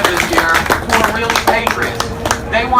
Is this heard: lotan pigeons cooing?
no